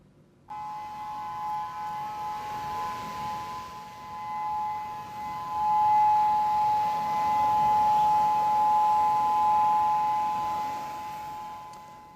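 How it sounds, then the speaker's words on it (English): A steady, wailing civil defense siren in Hawaii sounds a tsunami alert for the whole stretch, loud and sustained with a constant tone over a broad rumble of background noise. "triggering alerts and evacuations with sirens blaring across Hawaii"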